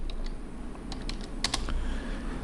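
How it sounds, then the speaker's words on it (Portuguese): Rapid clicks of typing on a computer keyboard during AutoCAD work. The keystrokes come in a short irregular cluster, close up, over a steady hum of room noise. "Vou digitar End"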